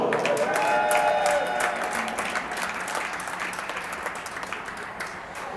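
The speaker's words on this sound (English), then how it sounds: "Ladies and gentlemen, one more round of applause for our runners-up, the Cleveland Lady Barons." An arena crowd at a girls' 14U hockey game claps steadily for the runners-up, a dense, moderately distant patter that fades gradually, with faint voices underneath.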